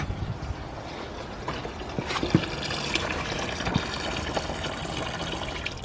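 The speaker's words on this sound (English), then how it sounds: "we can proceed in draining the coolant once again" Engine coolant drains from the cooling system of a BMW N52 engine as a steady close trickle and gush of liquid, with small splashes and clinks along the way and no talk.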